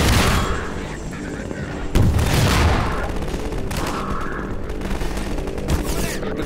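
Rocket launcher fire in the video game Half-Life 2, with a sharp loud blast partway through followed by rumbling explosions and scattered gunfire in a busy battle.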